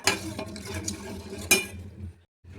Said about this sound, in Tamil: நல்லா கட்டி இல்லாமல் கரைச்சி விட்டு அடுப்பில் வச்சு